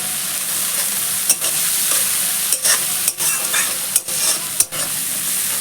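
Rohu fish sautés in a pan with turmeric, giving a bright, continuous sizzle and crackle broken by several short scraping stirs at irregular moments.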